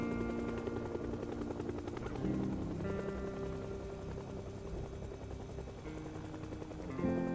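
A helicopter drones steadily overhead in the zombie survival game Project Zomboid, its rotor thrum constant and fairly faint against a low background hum throughout.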